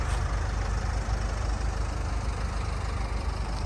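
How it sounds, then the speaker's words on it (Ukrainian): A Renault Koleos engine idles steadily and evenly, a close, constant low hum with fine rapid pulsing and no change in level throughout, with no voices. "Мотор також працює чітко, ріненько, без нарікань."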